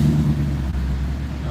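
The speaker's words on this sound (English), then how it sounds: "Give you guys a rev here." Mustang GT fitted with a rear-mount turbo idling and revving in a steady, loud low rumble, with voices talking over it.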